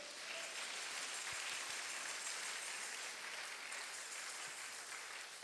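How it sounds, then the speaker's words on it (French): Steady applause from a church congregation during a sermon on the return of Jesus, a continuous even wash of many hands clapping at moderate distance, with no voices over it. "Est-ce qu'on peut applaudir pour le Seigneur?"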